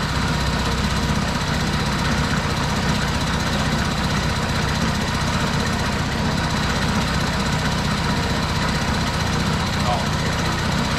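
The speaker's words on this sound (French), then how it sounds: "Bon, le moteur tourne plutôt rond." A 1977 Peugeot 103 VS moped engine running steadily after its first start, a continuous close, loud buzzing drone with a rapid knocking two-stroke rhythm that holds an even pitch throughout.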